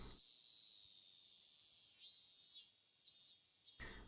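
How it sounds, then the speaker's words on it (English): A continuous high, shrill cicada drone fills the air, swelling and fading in waves, with no other sounds around it, in the game Higurashi no Naku Koro ni. "as I lay here listening to the voices of the cicadas"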